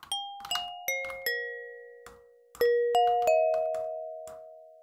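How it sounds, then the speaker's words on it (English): Synthesized glass bell tones from the Sytrus synth in FL Studio ring out one after another, bright struck notes with long decaying tails that overlap into sustained chords, playing alone with no talk. "it's kind of sounding like a nice glass bell sound"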